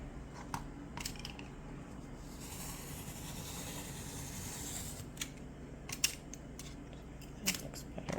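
Scissors trim the bottom edge of a paper playbill, giving soft close snips and crisp clicks scattered over a quiet hiss.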